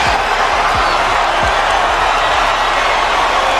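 Large boxing-fight crowd in a packed arena before a much-anticipated bout, a loud, continuous roar of voices and cheering with scattered low thuds, steady throughout.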